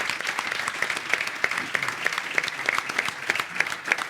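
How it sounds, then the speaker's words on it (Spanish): Conference audience applauds a panel in a steady, moderately loud wave of clapping with distinct individual claps standing out. "Yo solo os voy a pedir un aplauso para ellos"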